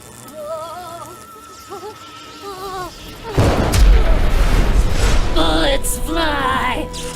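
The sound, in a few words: gunfire in an action movie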